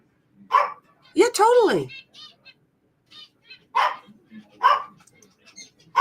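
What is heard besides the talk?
dogs barking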